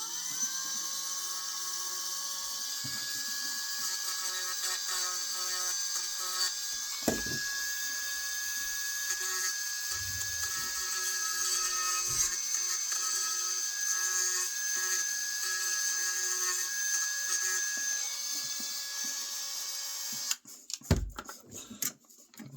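A high-pitched Dremel rotary tool grinding epoxy on a tinplate toy train cowcatcher whines steadily for a long stretch, close by, with occasional knocks and a burst of rattling near the end.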